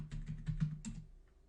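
A handful of quick keystrokes on a computer keyboard type a router's enable secret, soft and close with an uneven rhythm, fading to quiet near the end.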